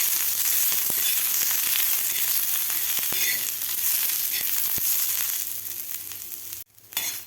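Chopped onion and grated coconut fry in oil in a pan for a potato and drumstick curry, giving a steady, loud crackling sizzle with occasional sharp pops that thins out near the end.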